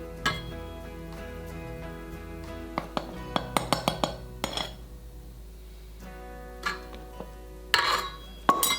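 White bread dough being mixed in a bowl, with clinks and scrapes of a utensil against the bowl in uneven bursts, close and moderately loud, alone without talk, over a low steady hum.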